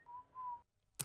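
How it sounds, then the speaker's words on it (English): A person whistles two short, steady, clear notes at low volume, followed by a brief pause and a sharp click. "That was me whistling"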